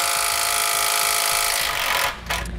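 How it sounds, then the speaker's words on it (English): A power tool driving a 12 mm socket whirs steadily and loudly to pull bumper beam bolts on a 2017 Subaru Forester, then cuts off with a short rattle near the end. "You're gonna wanna use a 12 millimeter socket, and we can pull those bolts out."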